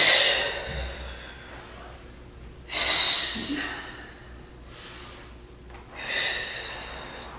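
Slow, audible breathing during a Pilates spine stretch roll-down in a combined Pilates and yoga class: three long, airy breath swells spaced a few seconds apart, close to the microphone, with no talking.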